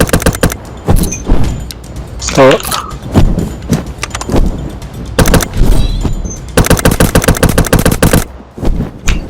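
Rapid gunfire bursts in the blocky zombie shooter game Zumbi Blocks 2, with repeated fast volleys and single shots, loud and close, broken up by other game sounds.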